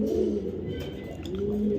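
A young female grizzle racing pigeon coos close by, a soft, low, rolling coo that runs through the brief moment.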